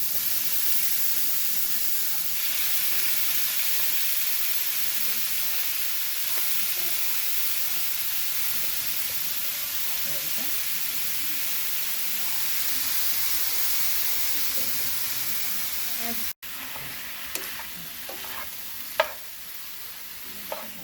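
Cheesesteak meat frying in oil in a pan, a loud, steady, close sizzle and hiss that holds throughout, then drops to quieter crackling with a few sharp clinks near the end.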